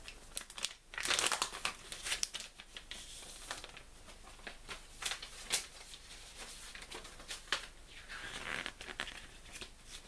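Packaging of a collector's edition item for the game The Division being unwrapped up close, with continuous crinkling and tearing of plastic and paper in bursts of rustling.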